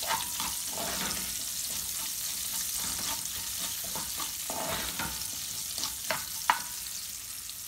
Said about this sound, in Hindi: अब इसके अंदर मैं डालूंगी प्याज, इसको हम भूनेंगे।